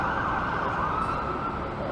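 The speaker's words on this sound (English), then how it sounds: "That's an ambulance." An ambulance siren wails steadily from a short distance on a Toronto street, its tone sweeping over a background of traffic noise as it struggles through traffic.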